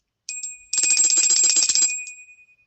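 A small handbell dropped during a live tarot reading, giving a bright metallic ring with a jangling clatter as it lands, then a sustained tone that decays over about a second.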